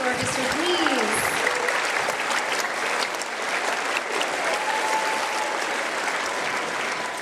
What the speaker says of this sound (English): Another round of applause for Intermezzo Orchestra, please.